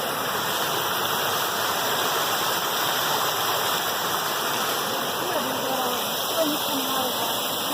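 Spring water flows out of the ground at Yargo Springs with a steady, dense rushing, even and continuous throughout, close by and fairly loud.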